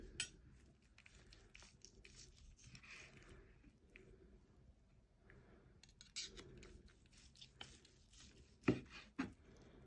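A knife cuts through cooked beef tongue braised in beer, producing faint, soft slicing and squishing sounds with a few sharper taps against the board near the end, quiet and close, with no talking.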